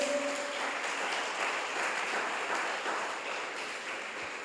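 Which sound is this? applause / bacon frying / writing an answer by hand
applause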